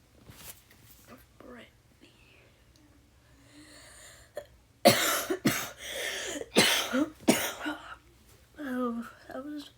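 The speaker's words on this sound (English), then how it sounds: "Oh, that was one cough." A person coughs several times in a row, sharp loud bursts close to the microphone, following quieter speech and mouth sounds.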